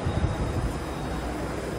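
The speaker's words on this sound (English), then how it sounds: "Churchgate station. Mumbai local train." A Mumbai local train at Churchgate station gives a steady, loud broadband rumble and rolling roar, with low thuds near the start and no speech.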